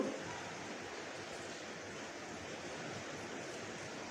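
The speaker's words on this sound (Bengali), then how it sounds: "তো পিঠাগুলোকে একদম গাঢ় কালার করে ভেজে নেব" Mung dal pakkan pitha cakes frying in oil over medium heat give off a steady, even sizzling hiss that holds unchanged throughout, with no voices.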